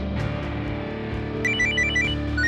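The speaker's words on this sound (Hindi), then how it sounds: "अरे फोन किसका?" A telephone rings in a home kitchen with a repeating electronic ringtone of bright, high chirping tones over background music.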